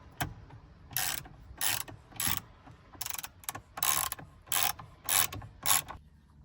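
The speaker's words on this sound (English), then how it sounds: "I'm gonna tighten this bolt up." A ratchet tightening the steering wheel bolt on a 2000s Porsche Cayenne 957: quick, close clicking strokes in regular short bursts, each a rapid run of pawl clicks, with brief pauses between, no talking.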